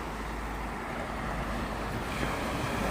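Sea waves wash steadily at Imrang beach on a foggy day, a continuous surf roar mixed with wind buffeting the microphone, without talk.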